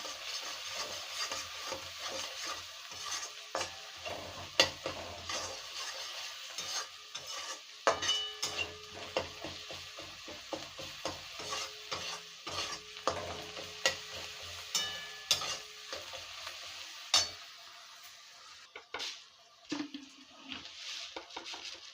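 Dried fish curry with elephant-foot yam and prawns is stirred in a pan after coriander powder goes in. A quiet sizzle sits under repeated close scraping and knocking strokes that ease off toward the end.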